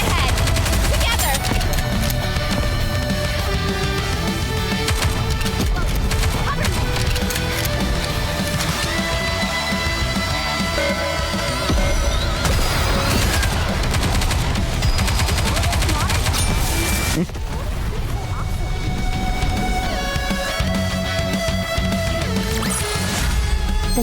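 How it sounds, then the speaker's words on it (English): A dense, continuous gunfire barrage in the Goddess of Victory: NIKKE video game fills the whole stretch, heavy and unbroken, layered with game music and effects and with voices calling out over the shooting. "Focus fire! We need to fire straight ahead!"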